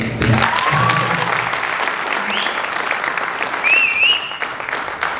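An audience at a film cast introduction event claps for a crew member, a dense, steady round of applause with a few whistles and a voice or two rising above it.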